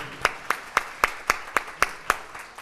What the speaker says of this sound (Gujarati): એ પંકજભાઈ માટે તાળીઓ ઘટે છે હજી